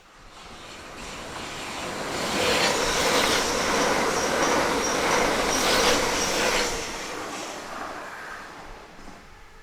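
A Class 395 electric passenger train rushes past in Kent, swelling from a distant rumble to a loud roar with rattling wheels and a faint squeal, then fading away.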